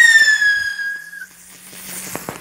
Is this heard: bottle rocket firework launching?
yes